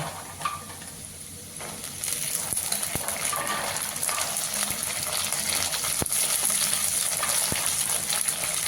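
Green peas and golden-brown fried potatoes frying in a pan, a steady broadband sizzle with occasional stirring clinks, louder after the first two seconds and continuing without talk.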